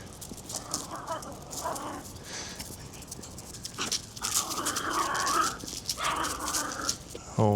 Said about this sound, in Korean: 얘네가 왜 짖는지부터 제가 볼게요.